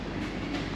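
A train running from Frankfurt to Berlin gives a continuous rumble with low rolling wheel noise, heard steadily from inside a carriage.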